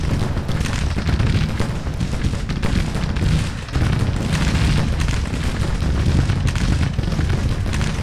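Continuous booming and rumbling battle din from artillery firing in Grand Tactician: Civil War at Fredericksburg, dense and loud throughout with a brief dip midway, no voices.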